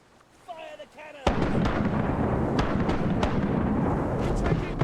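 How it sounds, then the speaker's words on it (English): Cannon fire in the game Sid Meier's Pirates, a sudden loud boom followed by a sustained rumbling barrage of blasts and cracks, after a brief stretch of quieter game sounds. "Fire the cannon!"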